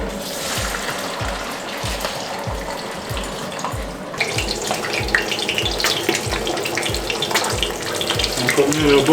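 Trout frying in hot oil in a covered pan, a steady broadband sizzle and crackle that grows busier partway through, with a regular low thumping beneath it and no talk.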